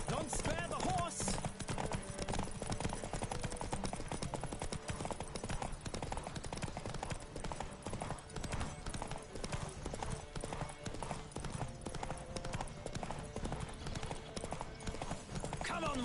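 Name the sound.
horse galloping in video game The Witcher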